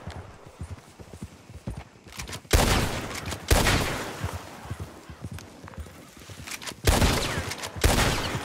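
Loud gunshots from Red Dead Redemption 2 ring out in four sharp bursts, spaced in two pairs, over a steady clatter of galloping horse hooves, with no one talking.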